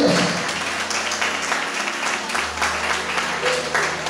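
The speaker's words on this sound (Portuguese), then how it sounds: "Dê uma salva de palmas, Senhor Jesus," A church congregation applauds loudly and steadily, the clapping sustained throughout with voices and a low musical drone mixed underneath.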